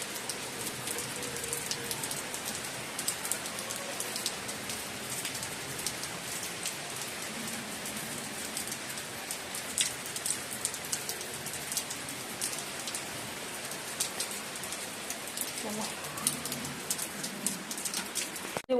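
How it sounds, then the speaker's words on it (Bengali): Steady rain falling outside a home kitchen, a continuous even hiss of drops on surfaces with faint scattered patters and a distant bird call or two, no voices. "এখনো পর্যন্ত বৃষ্টি হচ্ছে"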